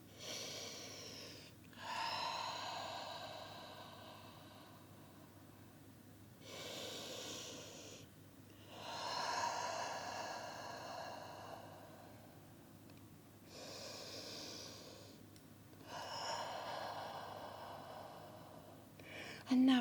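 Slow, deep breaths drawn in and let out during a lower-body mobility stretch, three long airy cycles in a steady unhurried rhythm, close and fairly quiet with no talking.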